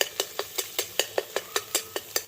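Egg frying in a wok for bhurji, stirred with a spatula that strikes the pan in about a dozen quick, evenly spaced scrapes and taps, close and clear with no talk.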